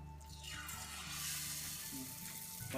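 Jilapi batter dropped into hot frying oil, giving a steady close sizzle and bubbling that rises and swells over a few seconds, with a brief sharper crackle near the end.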